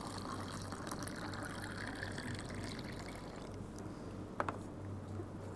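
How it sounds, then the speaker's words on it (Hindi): Water poured into a fizzing mixture of lemon juice and baking soda as a simple science experiment, giving a steady liquid rush with a few small splashes near the end. "थोड़ा पानी की मात्रा बढ़ा देते हैं।"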